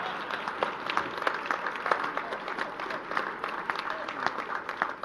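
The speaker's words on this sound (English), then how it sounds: "And you can applaud that if you like." An audience applauds at an international conference on WWII beach assaults, with steady, moderately loud clapping throughout and individual claps standing out from the wash.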